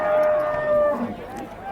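A single cow moos loudly and close by at a cow and bull market in Chintamani, a low drawn-out call lasting about a second.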